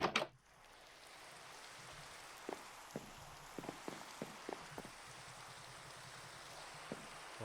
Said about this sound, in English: It's just gonna be really rainy.